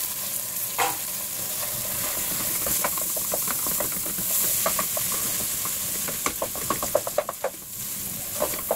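Corned beef sizzling and frying with onions in a pan, a steady hiss of hot fat with scattered crackles and stirring scrapes that grow busier toward the end, close and fairly loud.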